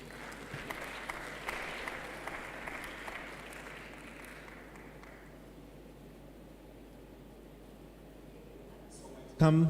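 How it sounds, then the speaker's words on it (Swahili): Applause from attendees at the close of a Youth in ICT Day conference session, with scattered claps in the first few seconds that quickly thin out and fade, leaving a quiet room hum. "Naomba tujipigie makofi as we exit the room."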